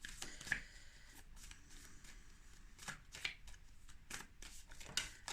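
Oracle cards are shuffled by hand in a quiet room, giving a run of soft papery riffles and brisk flicks with a few sharper slaps, close to the microphone.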